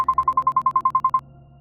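A phone in a haunted-apartment mystery game rings with a rapid, regular electronic trill of about thirteen beeps, then falls silent, sounding clear and close.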